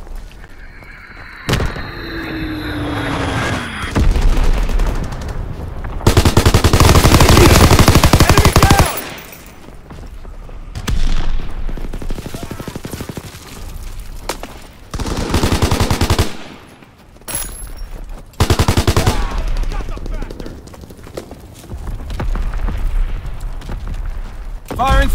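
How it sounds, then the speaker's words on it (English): Call of Duty: WWII multiplayer combat erupts with rapid bursts of automatic gunfire and heavy booming explosions from an Azon bomb strike, loud and close, with calm stretches between blasts and game voice callouts. "Dropping Azon bomb!"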